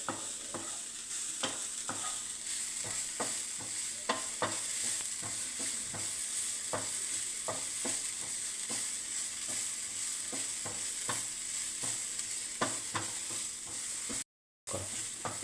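Carrots frying in ghee for gajar halwa are stirred steadily in a pan, with a constant sizzle and repeated spoon scrapes throughout, close and moderately loud, then a brief silent gap near the end.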